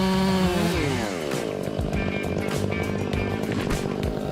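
Chainsaw cutting and felling a cedar tree near power lines, the engine revving high then dropping into a steady loud buzzing drone as the blade bites, close and continuous.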